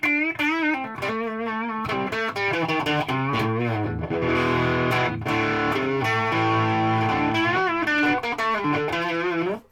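Heavily distorted electric guitar, a Chinese Telecaster through a valve amp, playing thick, saturated chords and riffs, loud and sustained, then cutting off abruptly at the end.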